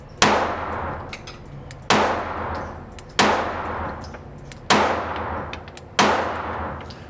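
Five loud pistol shots from a Canik Rival SFx handgun fire at a slow, even pace about 1.3 seconds apart, each a sharp crack with a ringing decay, no talking.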